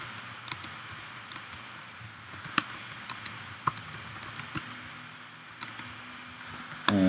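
Close-up typing on a computer keyboard, irregular bursts of light key clicks with occasional louder taps, no talking.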